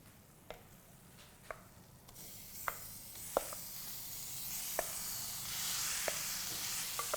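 Minced meat keema sizzles in a pan of masala for Telangana bagara rice keema, a steady frying hiss that swells midway, punctuated by sharp spoon scrapes and taps as it is stirred.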